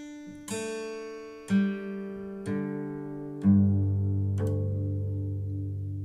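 Single guitar strings, tuned a whole step down, plucked one after another, each note ringing out and slowly fading, played alone at a moderate, even pace.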